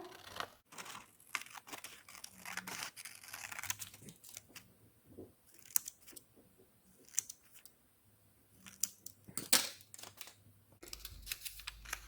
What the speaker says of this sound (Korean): 자, 그럼 이제 이것을 한번 잘라 볼게요. 가위를 이용해서.